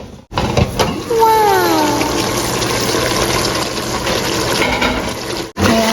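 A steady rush of water pours into a cooking pot of pork ribs, filling it up with a continuous gushing splash; a brief voice-like tone glides through early on, and the flow stops abruptly near the end.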